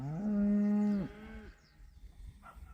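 A cow lets out one loud, drawn-out moo close by, which tails off into a quieter low grunt, followed by faint background noise.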